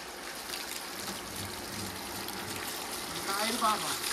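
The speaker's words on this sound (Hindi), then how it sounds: "पूरा ट्रैक्टर भर ले पूरा भिगा लेते हैं अच्छा तरीका से" Water splashes and gushes over a cage-wheel tractor being washed down, a continuous hissing spray that swells slightly toward the end.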